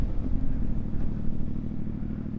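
A CFMoto 450MT adventure motorcycle engine pulls steadily in the mid-range around 4,000 to 6,000 RPM, giving a loud, continuous, throbbing drone with no voices.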